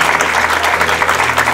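Wedding guests applaud the newlyweds in a steady, dense wash of clapping from a crowd close by, loud and continuous with no talk.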